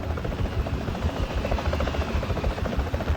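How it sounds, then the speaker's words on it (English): Rapid, heavy chopping of helicopter rotors fills the air overhead, loud and steady with a deep pulsing thump throughout, no voices present. "it's a helicopter"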